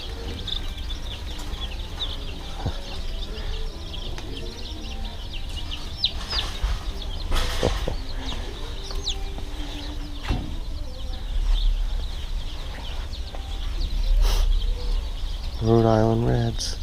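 Rhode Island Red chicks chirping and clucking at a farm store, small high peeps under loud indoor store ambience. People talk nearby.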